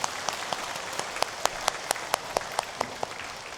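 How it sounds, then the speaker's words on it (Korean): A church congregation applauding during a Sunday worship service, a steady roomful of clapping with distinct sharp claps standing out at an even pace throughout. "하나님께 영광의 박수 올려드리겠습니다."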